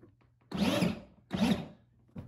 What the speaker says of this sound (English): check to make sure the wheels spin in the right direction when we hit the pedal